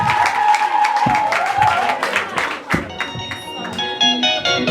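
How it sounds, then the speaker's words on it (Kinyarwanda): Church congregation applauding and cheering at a gathering, a dense crowd of claps close by, with a voice and some music rising under it toward the end. "mukomere Imana amashyi"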